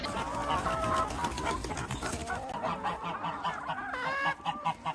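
A flock of free-range native (baladi) chickens clucking and squawking together, a dense, continuous chorus of overlapping calls close by.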